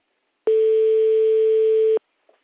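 A single steady electronic ringback tone sounds for about a second and a half while a phone call is placed, then cuts off into silence.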